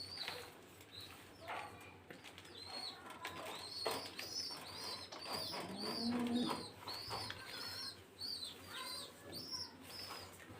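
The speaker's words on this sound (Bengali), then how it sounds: "খুবই সুন্দর এক পেয়ার সিরাজি কবুতর রয়েছে।" Sirazi pigeons coo in repeated soft, throaty phrases, with light chirps and occasional wing flutters scattered through a quiet, close-up recording.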